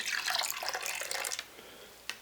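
Yellow beer splashes and gurgles as it pours steadily into a cooking pot for about a second, then trickles off into quiet with a small drip.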